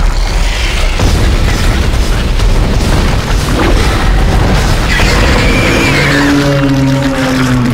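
Line gun fire and explosions in the sci-fi horror game Dead Space, a loud, dense wash of booming blasts and bursts that keeps going the whole time, with low tonal hums rising near the end.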